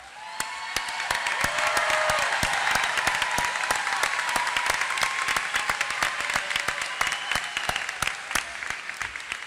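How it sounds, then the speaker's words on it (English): Sustained applause from a large audience fills a hall at a college of Health and Human Performance graduation recognition ceremony, a dense, even wash of many hands clapping with a few sharper claps standing out, moderately distant and without speech. "You all stand up and let us applaud you again."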